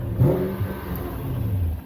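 A lifted 2010 Toyota Tundra CrewMax Limited engine revs briefly, a mid-pitched rise then settling into a steady idle hum, moderately loud and close, with no talking.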